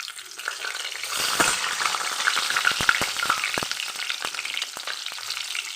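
Two bay leaves fry in hot mustard oil as a tempering for a jackfruit curry, giving a loud, close, steady sizzle with sharp crackles and pops scattered throughout.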